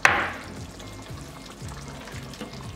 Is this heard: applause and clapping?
no